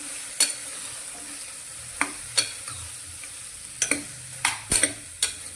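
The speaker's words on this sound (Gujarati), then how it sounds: "અને તેને વઘારની સાથે સારી રીતે મિક્સ કરી લઈશું" A spoon scrapes and knocks against a pressure cooker as ridge gourd is stirred into tempering, irregular strokes over a faint sizzle of frying, close and fairly sharp.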